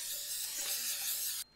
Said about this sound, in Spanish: Y voy a poner un poquito de aceite en aerosol por los lados.